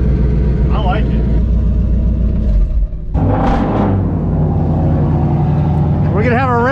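Modified Ford Mustang GT V8 with muffler and resonator deleted, revving loudly up close in a deep rumbling burst, with someone talking over it before and after.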